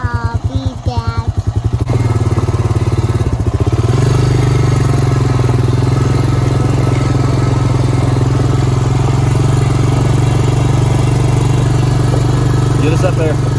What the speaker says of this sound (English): Vroom, vroom. My motorcycle.